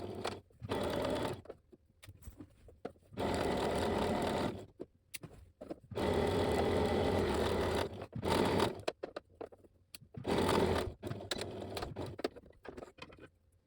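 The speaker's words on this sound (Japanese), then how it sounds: "まずはこの2枚を外表に合わせて縫い代 5mm で縫っていきます。" A sewing machine stitches a 5 mm seam through two layers of fabric placed wrong sides together for a French seam on a sleeveless kimono-style costume, running in several loud, close bursts separated by short pauses.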